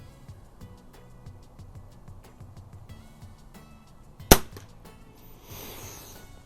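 A single sharp, fairly loud crack from a scoped Walther LGR air rifle, standing alone in a quiet room, followed a second later by a soft hiss.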